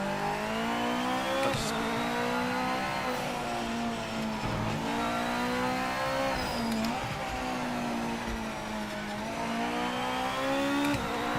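A GT500 race car engine in Project Motor Racing revs up and down through gear changes over a lap, loud and close, with rising whines, downshift dips and faint tire squeal, no voices.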